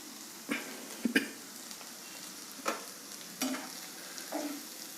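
Poha with salt being stirred and cooked in a pan: a soft, quiet sizzle underneath with several sharp scraping knocks of a spoon against the pan at irregular intervals.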